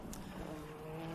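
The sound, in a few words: vintage race car braking late, tires locking up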